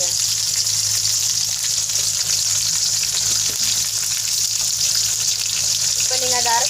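Capsicum sautéing in a pan, a continuous loud sizzle and hiss throughout, with faint stirring scrapes and a brief clink near the end.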